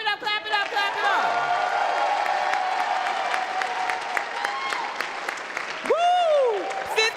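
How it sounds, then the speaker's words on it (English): An audience at the Beyond the Bars Conference opening night breaks into sustained applause and cheers, with whoops rising above the clapping and a voice speaking over the crowd. "Come on, clap it up, clap it up, clap it up."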